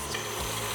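Lemon zest being grated for lavender shortbread, a steady soft rasping scrape that runs through the moment, fairly close and quiet, with no voices.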